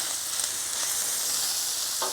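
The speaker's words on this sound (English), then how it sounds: "we're going to dump them in and just mix them all in the bacon" Onions frying in bacon grease on a Blackstone griddle, a dense, even hiss of sizzling with faint scraping and a brief louder stir near the end, close and steady.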